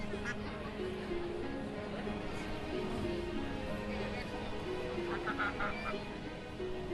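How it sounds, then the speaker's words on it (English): Ducks in the colonial town-building game Banished give off honking, quacking calls scattered over a steady bed of game ambience and music, with a speaking voice running under them throughout. "I don't know what's going on with these ducks"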